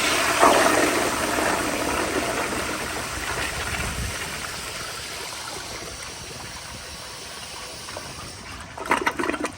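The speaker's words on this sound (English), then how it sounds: "the pressure is turned all the way up. Here's an overpowered flush." A 1980s American Standard Afwall toilet with the water pressure turned all the way up gives an overpowered flush, a loud rushing gush that tapers into a long draining swirl, ending with a brief clatter.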